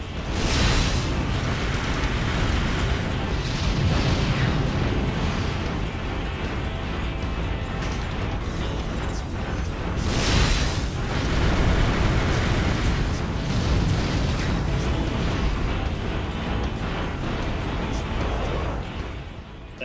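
Continuous loud booming and rumbling from the video game Armored Core: for Answer, rail cannon shots, heavy explosions and cannon blasts blending into a dense roar, with two stronger bursts.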